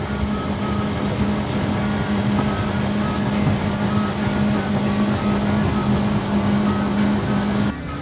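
A skiff motorboat, the Salt Marsh Heron 16, runs against the current with the throttle pulled all the way down at about 32 miles an hour, giving a steady, loud engine drone with a low hum and no breaks.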